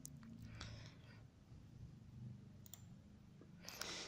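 Computer mouse clicks at a desk while setting up a website customer chat tool, several sharp, quiet clicks spaced irregularly over a faint background hiss, with the last pair coming close together near the end.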